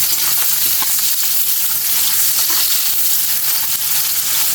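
Onion sautés in a pan of hot oil for bopis, a Filipino dish, making a loud dense continuous sizzle and crackle close up for several seconds, with no voices.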